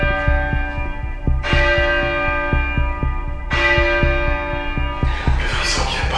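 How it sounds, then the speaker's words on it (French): A large bell rung inside a château at night, struck a few times with long ringing overtones that decay between strikes, and a steady low rhythmic pulse underneath. "va sonner la cloche"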